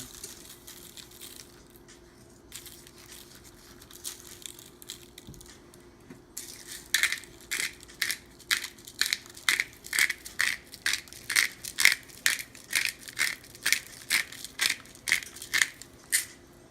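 Salt and pepper ground from a hand mill over a portobello mushroom steak in a home kitchen, a run of about sixteen crisp, evenly spaced grinding crunches, close and clear with no talk.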